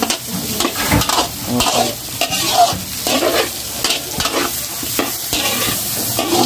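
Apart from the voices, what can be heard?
sautéing onion and garlic in oil with cream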